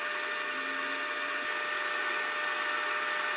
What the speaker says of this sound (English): use your center drill to drill a pilot hole